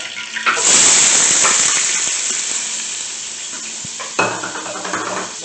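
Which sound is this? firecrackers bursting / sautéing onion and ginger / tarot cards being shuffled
sautéing onion and ginger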